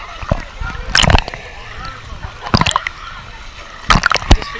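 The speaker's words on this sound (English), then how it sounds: "This is what the lazy river kind of thing is about. It's just going through the water" Water splashes and sloshes in bursts along a lazy river at the Aquatica water park in Florida, with a voice talking close by between the splashes.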